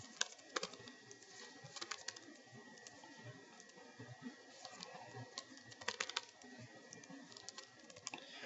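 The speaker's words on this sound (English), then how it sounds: "I'm just going to type in what those choices are." Keystrokes on a computer keyboard while multiple-choice answers are typed into a Google Form, quiet irregular clicking in bursts across the stretch with no talk.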